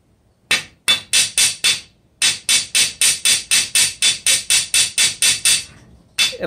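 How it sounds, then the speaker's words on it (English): Sharp, regular hammer strikes setting brass wire into a groove in steel for an inlay, about twenty evenly spaced blows in quick succession after a couple of opening taps. "all we're going to do is hammer that wire down in and nice and flush"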